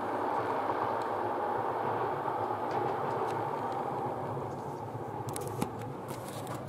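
A continuous low rumble of a train rolling past at a distance, steady throughout, with a few faint clicks and rattles near the end.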